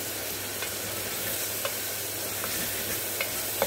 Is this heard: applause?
no